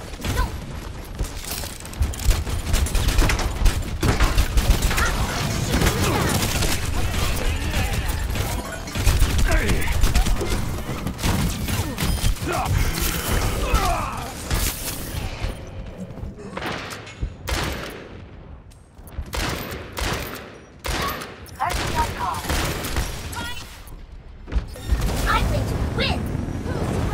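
Dense bursts of gunfire and mechanical clatter fill an Xbox Mystery Heroes match, rapid shots overlapping almost nonstop before thinning into scattered cracks, with occasional talk underneath.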